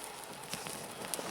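A marine distress signal flare burns out in a campfire, giving a faint, steady crackle and hiss with a few small pops and snaps outdoors in the Siberian taiga.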